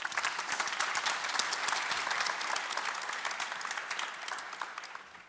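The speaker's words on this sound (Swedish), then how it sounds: "Jag tycker vi ger dem en applåd till att börja med." Audience at a Swedish cultural heritage panel event applauding the panel speakers, a dense, even round of clapping in a hall that tapers off toward the end.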